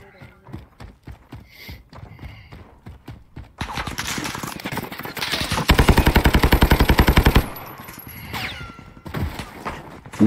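Light machine gun bursting in a Call of Duty Warzone match: a rapid, loud stream of shots following scattered footsteps and game noise, with a player's voice speaking over parts of it.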